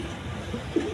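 A pair of Giribaz pigeons from Rajshahi coo softly, one brief low murmur close by.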